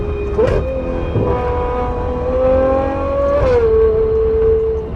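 A tuned Ferrari V12 sings loud and close, its rising engine note cut by quick gear changes, then climbing again before easing into a sustained high howl.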